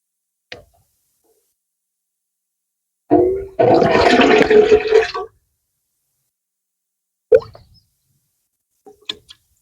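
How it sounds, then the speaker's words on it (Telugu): Water gushes and splashes into a container in a single pour of about two seconds. A few faint knocks and drips come before and after it, against near silence. "దాంట్లో నీళ్లు వద్దాం ఇప్పుడు అది ఏడు గ్లాసులు నీళ్లు వేయడం జరిగింది"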